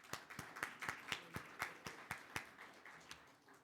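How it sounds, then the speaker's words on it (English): Rhythmic, evenly spaced claps at a conference event, sounding like a single person or a few people clapping slowly rather than a full crowd, fairly faint with no talk over it. "Big round of applause."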